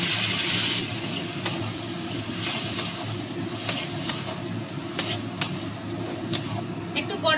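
Water is poured into a cooking pan holding ground tomato paste and turmeric for an egg and potato curry, making a steady, fairly loud hissing splash that runs through the whole clip, with faint clicks on top.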